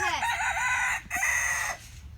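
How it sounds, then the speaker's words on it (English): A rooster crows in the background on a backyard chicken setup, two long drawn-out calls in succession, loud and clear with no talking over them. "That was the rooster back there."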